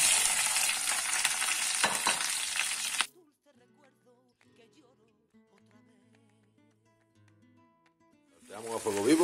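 Green pepper sizzles loudly as it hits hot oil in a pan over high heat while pisto manchego is cooked, a steady hiss that breaks off into near silence, then comes back as the pan is stirred.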